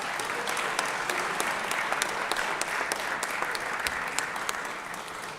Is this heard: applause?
yes